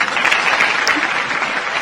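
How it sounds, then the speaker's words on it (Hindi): Steady, dense applause from a crowd clapping together on a comedy prank-call show, loud and continuous throughout with no pauses. "ये तो ताली बजानी शुरू कर दी।"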